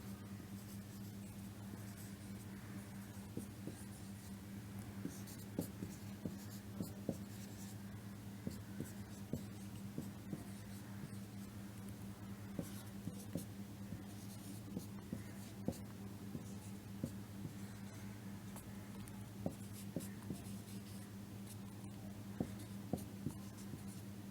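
Bengali letters are written by hand with pen or pencil on paper, producing faint, repeated scratchy strokes and taps in an irregular rhythm over a quiet background hum.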